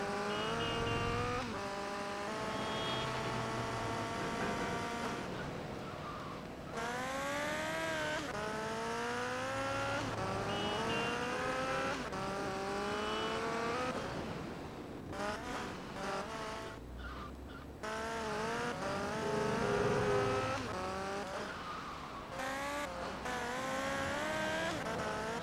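Racing engines roar in GTA Vice City Stories during a motorcycle Turismo race, loud and continuous with pitch sweeping up and down through gear changes, plus tire squeals and short dips as vehicles pass; no talking.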